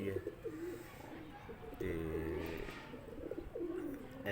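Domestic pigeons coo nearby in a loft, several soft repeated throaty coos rising and falling, with someone speaking briefly.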